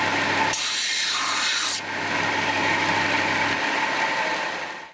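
A big steel plate washer has its edge ground off with a power tool for a Series Land Rover restoration, producing a loud, continuous abrasive grinding roar with a harsh high rasp in the first seconds.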